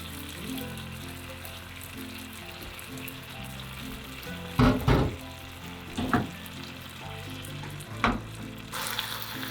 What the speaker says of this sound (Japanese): 弱火にして空けたスペースに卵を流し込んでください。